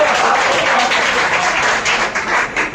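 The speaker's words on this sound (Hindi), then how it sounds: "सुन के तालियां बजा दीजिए आप लोग" Sustained, dense applause from a crowded audience at a mushaira poetry gathering in a hall, steady and close throughout with no speech over it.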